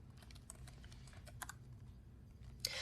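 Quiet clicking of computer keyboard keys as a command is typed into a Windows prompt, irregular taps scattered across the clip with a slightly louder keystroke near the end, over a low steady hum.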